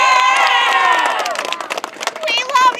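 Cheering and shouting from a crowd at a 12U youth football game, with children's voices among it and scattered clapping.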